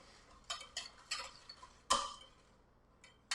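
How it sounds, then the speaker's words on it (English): Whisk clinking against a short bowl of sour cream, a sparse series of light metallic taps, about seven irregular strikes with one sharper hit near the middle, quiet and close, with no talk. "Whisk it up until it's real smooth."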